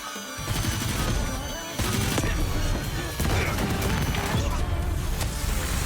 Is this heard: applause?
no